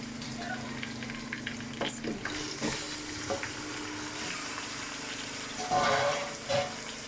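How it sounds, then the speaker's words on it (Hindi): Chicken frying in a pan with garlic and ginger for a degi-style shahi korma, a steady broadband sizzle with occasional stirring clatters and a brief louder flare near the end. "जब तक ये चिकन और लहसुन अदरक फ्राई हो रहा है"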